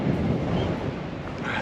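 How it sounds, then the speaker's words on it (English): Strong wind buffets the microphone on an open Welsh mountain ridge in the Berwyn range, a loud, low, rumbling roar that stays steady throughout the short moment. "My word, the wind's up."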